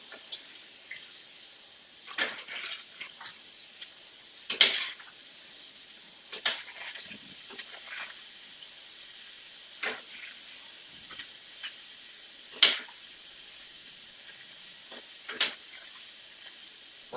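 Shrimp frying in a pan with jerk seasoning, a steady low sizzle and hiss running throughout with a few sharper pops and crackles standing out at intervals, fairly quiet and without any talking.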